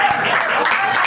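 A church congregation applauds during a worship service, a dense, steady patter of many hands clapping throughout the short moment with a voice mixed in.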